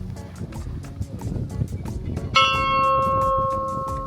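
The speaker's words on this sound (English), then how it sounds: "Are you allowed to ring the bell?" Rapid clattering sounds come first, then a single loud bell strike rings out close by and hums on, slowly fading.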